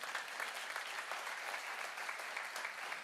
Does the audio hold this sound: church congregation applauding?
yes